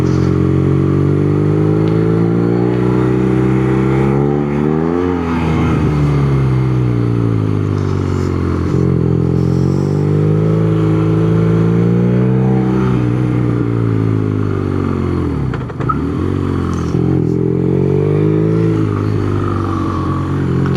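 A BMW retro motorcycle, part naked and part café racer, runs while being ridden: a loud, close, continuous engine drone with harmonics that rise and fall as the revs shift, with no talking.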